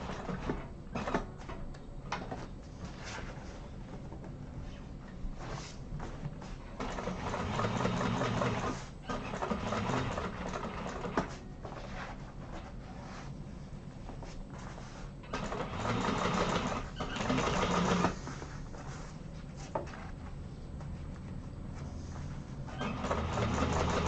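A sewing machine stitches a seam on a Cassia satchel in bursts of steady running, with brief pauses and speed changes throughout.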